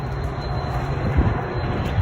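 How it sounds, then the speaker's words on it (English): A train on working railroad tracks near an abandoned line gives a steady, low distant rumble, with a few faint clunks and no talking. "You can hear the other train tracks that actually work right here."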